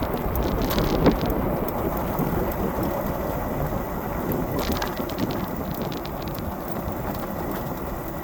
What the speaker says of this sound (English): Riding in the rain.